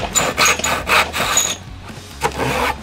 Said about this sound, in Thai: ผมก็จะจบงานนะครับด้วยเลื่อยนะครับ